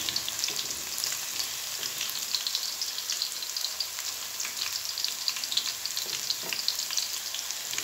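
Onions frying in a pan for vegetable pulao, a steady close crackling sizzle with bright spattering pops throughout and no voices.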